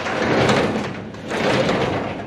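Garage door being run open, a rough rumbling scrape in two long surges with a brief dip between, loud and close, with no talking.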